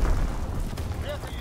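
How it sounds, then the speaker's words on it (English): A bomb blast in the Call of Duty WWII video game, a low rumbling boom that fills the clip and decays slowly while a faint game voice comes through underneath. "Enemy bomb incoming."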